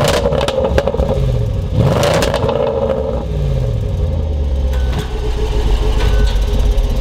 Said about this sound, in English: you can hear the 5-litre engine purring away